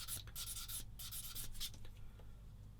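A small sanding stick with numbered grit rubs across a part of a 1/35 scale Bronco Mk XXIII submarine model kit, making soft, uneven scratchy strokes in short bursts, close and fairly quiet, with no talking.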